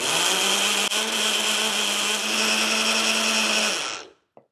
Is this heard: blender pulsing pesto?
yes